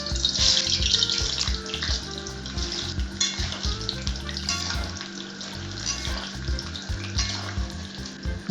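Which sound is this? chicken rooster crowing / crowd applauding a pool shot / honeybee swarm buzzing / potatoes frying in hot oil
potatoes frying in hot oil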